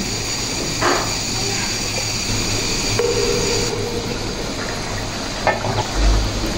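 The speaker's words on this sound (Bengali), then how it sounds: "তরকারিটা কিছু সময় নিয়ে রান্না করে নিচ্ছি" A vegetable and shing fish curry with ash gourd and tomato simmering in a pan, a steady loud bubbling sizzle with a constant hiss and a few faint knocks.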